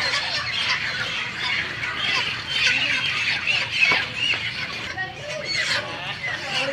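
Large chickens in a poultry house cluck and squawk nearby in a noisy, overlapping chorus, with a person talking over them.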